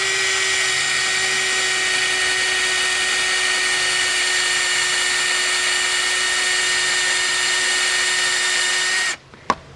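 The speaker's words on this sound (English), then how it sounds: "I'm just going to drill." A power drill whines loudly and steadily at one constant pitch, boring nonstop into a pine branch before cutting off abruptly, followed by a couple of small knocks.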